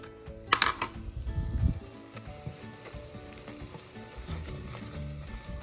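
Flour roux for chicken pot pie filling cooking in a home kitchen pan, a clink of a utensil and brief stirring bursts at the start, then a soft steady sizzle alone.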